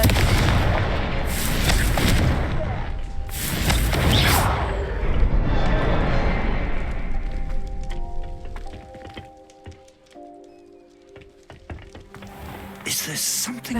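Hogwarts Legacy's Confringo spell bursts in a series of loud explosive booms and cracks, clustered early and again at the end, with a faint game score sustained in between.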